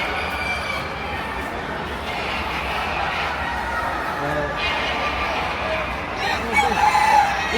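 Hens and roosters at the Sydney Royal Easter Show poultry pavilion, with clucking and crowing in a noisy crowd hall while people talk nearby.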